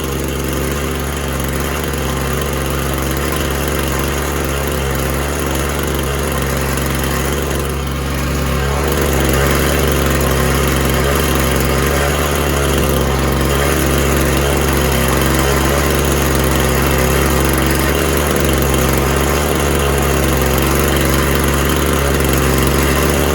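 A small carbureted engine, its carburetor in need of tuning, runs steadily at a constant idle-like pace, a loud continuous drone with a mower-like buzz and no breaks.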